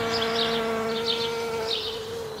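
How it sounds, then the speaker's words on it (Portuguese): Bees buzz around flowering plants, including a broccoli plant, in a vegetable garden in Germany: a close, continuous droning hum with swelling and fading wingbeat tones and no voices. "tinha tanta abelha na horta. Você ouvia, assim, o zumbido delas."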